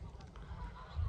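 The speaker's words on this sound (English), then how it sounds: "Plenty of Canadian geese, swans out." Faint Canada goose honks sound in the distance over low outdoor rumble, with a louder thump at the end.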